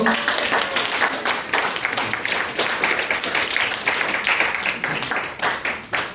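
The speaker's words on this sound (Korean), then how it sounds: "우리 큰 박수로 좀 격려하실까요?" Church congregation applauding during a special worship service, a dense steady patter of many hands clapping at moderate distance throughout, with a faint voice or two mixed in.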